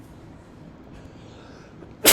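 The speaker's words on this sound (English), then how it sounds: "Sorry, I had to sneeze." A single sharp sneeze bursts out at the very end after a quiet stretch, loud and close.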